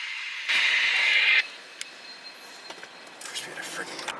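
Train NSP81 passes through downtown Buford, heading northbound. A sudden loud, hissing horn-like blast lasts about a second, then fades into a quieter, distant rolling rumble with scattered clanks.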